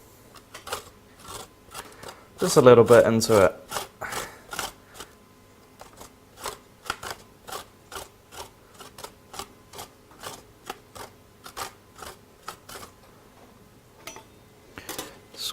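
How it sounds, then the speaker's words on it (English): Rhythmic rasping strokes of an ingredient being grated for a pumpkin beef and cashew curry, soft and close, one brief louder scraping burst early on, with a person speaking quietly. "I'm just going to grate"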